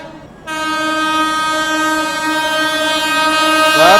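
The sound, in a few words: Gaya–New Delhi Mahabodhi Express train passing at high speed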